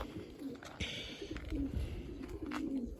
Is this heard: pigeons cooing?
yes